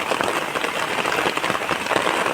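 A downpour drums on the ground and nearby surfaces where sheep are herded, a thick, unbroken patter of rain heard up close without any talking.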